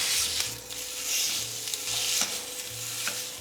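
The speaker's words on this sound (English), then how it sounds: "I'm gonna take this over and just brown it up on the stovetop in a pan" Sage pork sausage browning in a pan on a stovetop, a steady close sizzle with rhythmic scraping strokes of a utensil stirring and breaking up the meat.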